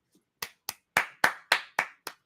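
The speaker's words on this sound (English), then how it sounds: "Golf clap." Seven slow, evenly spaced hand claps, a polite golf clap, sharp and close with nothing else around them.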